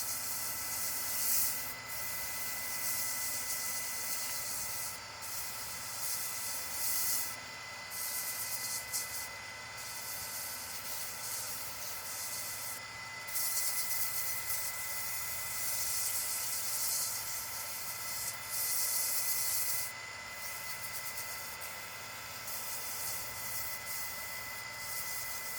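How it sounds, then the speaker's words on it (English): Sandpaper rubs over a turned wooden mini vase spinning on a lathe, a continuous hissing scrape over the machine's steady hum, with the rubbing rising and easing in passes. "I sand it to make the surface as smooth as possible."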